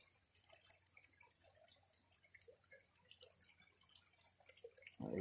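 Water trickles and drips steadily in a creek during gold prospecting at Reedy Creek, a faint continuous wash of small splashes with a louder burst of flow at the very end.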